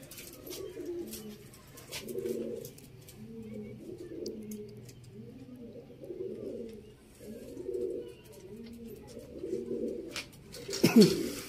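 Lakha pigeons coo steadily in a repeating, rhythmic pattern of soft low calls, close by, with a brief sharper rustle near the end.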